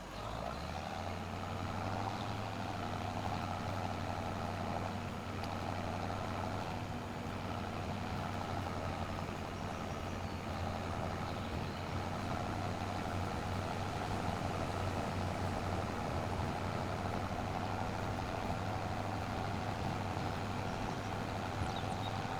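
A tractor engine idles in a farming video game, starting up and then settling into a steady low rumble with a constant hum, running evenly and alone for over twenty seconds.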